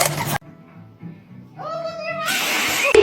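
A cat growls and yowls in a drawn-out, rising and falling cry, close and fairly loud, with short gaps of quiet and noisy bursts at the start and end.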